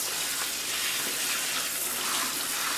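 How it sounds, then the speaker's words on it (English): Cold tap water gushes steadily over spiralized zucchini noodles in a colander, a loud, dense hiss of spray and splashing that holds constant throughout with no talking. "So I'm going to rinse it now with some cold water."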